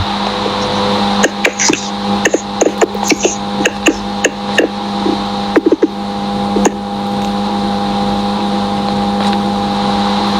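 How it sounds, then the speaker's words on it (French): A car engine idles steadily nearby as a car pulls in to park, while a series of sharp clicks and knocks sound over it in the first half, fading to a steady hum. "Qu'est-ce que c'est que ce bruit de voiture qui rentre,"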